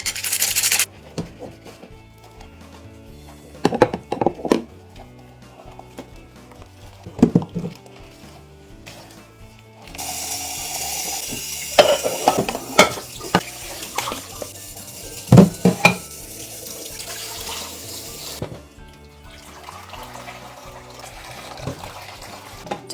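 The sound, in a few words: washing pots and dishes in the sink with detergent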